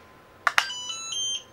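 A small electronic buzzer on a Makeblock Neuron kit sounds two quick sharp chirps, then a short run of thin, steady tonal beeps at changing pitches, quiet and close with no talking.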